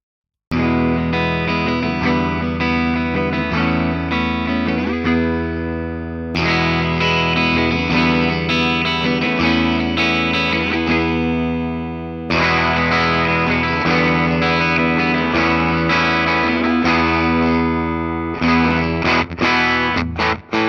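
A Gibson Les Paul Studio Session with 57 Classic pickups plays loud, distorted chords and riffs through effects, sustained sections broken by sharp re-attacks and a choppier run of hits toward the end, with no talking.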